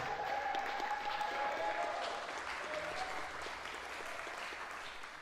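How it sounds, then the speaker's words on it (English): A jazz club audience applauds a bass player, with a steady wash of clapping and crowd noise that tapers slightly toward the end. "please give a nice Detroit round of applause for Langston Kitchen on the bass"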